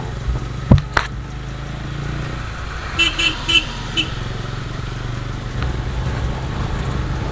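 A 2022 TVS Ronin 225 motorcycle on a ride, its steady engine hum running throughout with wind noise, a couple of sharp knocks early and a brief series of short horn toots midway.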